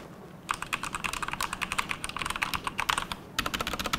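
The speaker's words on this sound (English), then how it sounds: "I love the sound of truly mechanical keys." Rapid typing on a 1STPLAYER DK5.0 RGB mechanical gaming keyboard with double-shot ABS keycaps, a close, crisp run of clacking keystrokes in two bursts separated by a brief pause, with no voice over it.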